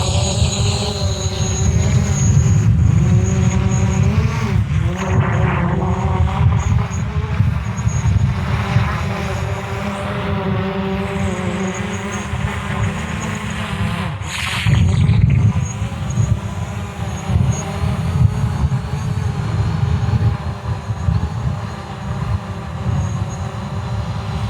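A DJI Mavic Pro drone comes in to land outdoors over short grass onto a flat landing pad, its loud steady propeller whine and buzz continuing throughout with wind-like rumble.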